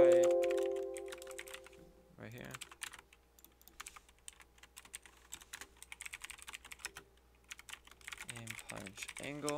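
Computer keyboard typing while coding a C++ program, quick irregular key clicks close by in short bursts, with a voice talking briefly at the start and near the end.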